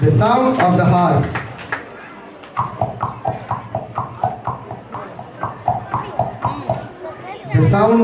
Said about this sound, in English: The sound of the horse.